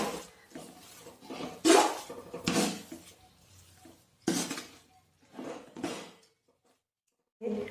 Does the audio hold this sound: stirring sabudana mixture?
yes